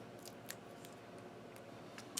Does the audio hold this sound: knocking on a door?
no